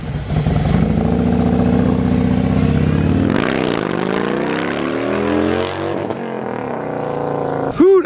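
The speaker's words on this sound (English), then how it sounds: "that bike sounds good" A Harley-Davidson M8 107 motorcycle with a performance upgrade and aftermarket exhaust rides past: a steady loud rumbling idle, then the engine revs up and pulls away, fading somewhat before a sharp close burst at the end.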